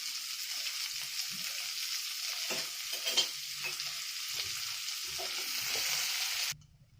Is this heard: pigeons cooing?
no